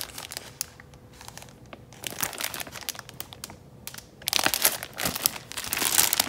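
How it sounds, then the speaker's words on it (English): Sheets of glassine paper being handled up close, giving crisp crinkling and crackling bursts that grow denser and louder toward the end. "So I did see this glassine paper"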